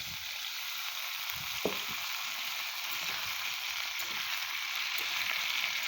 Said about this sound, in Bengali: এখন আলুটা ভাজা ভাজা হয়েছে। এখন দিয়ে দেবো এখানে সাজনাটা।